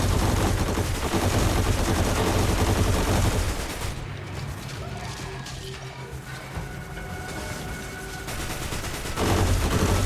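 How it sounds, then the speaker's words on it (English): Gunfire in the video game Destiny: Rising, dense bursts of rapid automatic shots and impacts, loud at first, easing into a quieter stretch, then returning heavy near the end. "stand behind that shield that you're firing through right now. It's going to protect you and it's firing at you."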